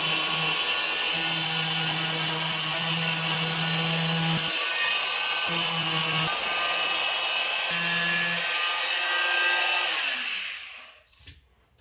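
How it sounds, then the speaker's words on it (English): A small power sander scuffs the back tab of Jordan 4 sneakers, giving a steady close whine with pitch shifts as it bears down, stopping and restarting, then winding down to quiet at the end; no speech. "I'll be also using this sander right here that I have to kind of scuff up the back tab."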